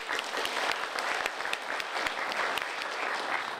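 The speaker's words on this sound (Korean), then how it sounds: "박수 한번 쳐줘요." A crowd at a mayoral candidates' debate claps steadily, a dense patter of many hands that holds at an even level throughout with no voices breaking through.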